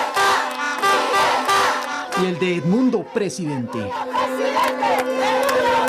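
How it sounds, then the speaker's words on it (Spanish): A loud crowd gathered in Quito's Bicentennial Park shouts and applauds at a rally, with horns sounding over voices and cheering; someone speaks over the din for part of it while chants rise and fall. "Sonaban las cornetas, el choque de los aplausos, el grito de libertad"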